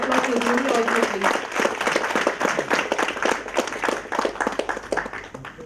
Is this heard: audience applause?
yes